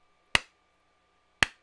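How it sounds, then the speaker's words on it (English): Two sharp, isolated hand claps, about a second apart, crisp and close against near silence. "I'm going to find the sound of the clap"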